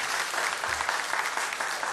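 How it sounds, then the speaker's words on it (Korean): Church congregation applauding a first-time newcomer, a dense, even burst of clapping lasting about two seconds with no voices over it. "박수로 우리 한번 환영하겠습니다"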